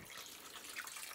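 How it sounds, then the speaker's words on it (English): Water is poured into a pot of chicken fricassée to top it up, a steady broadband splashing rush that holds evenly throughout, close and fairly loud, with no talking. "all what we're gonna do is top up with water"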